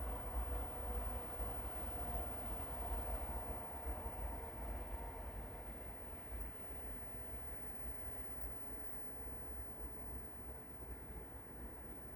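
A steady rumbling roar of a train passing near Kirkstall Abbey, broad and continuous, gradually easing slightly in loudness over about twelve seconds.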